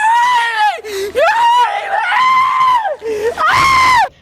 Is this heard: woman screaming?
yes